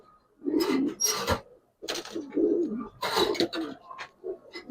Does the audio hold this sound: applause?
no